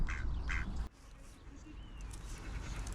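Ducks on a winter fishing pond give two or three quick nasal quacks near the start, then only faint outdoor ambience remains.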